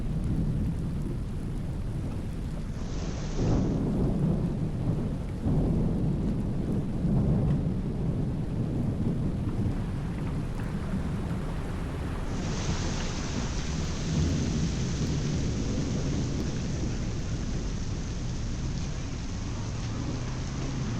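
Thunder from a Florida lightning storm rumbling low and long over steady heavy rain, the rolling roar swelling and fading across the whole stretch with no talk.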